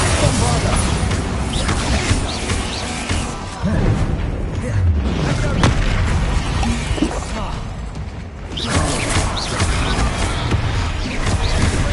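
Bombarda explosion spell in Hogwarts Legacy, loud blasts and crashing impacts in a busy, dense battle mix, with spell casting repeated over several seconds under continuous talk.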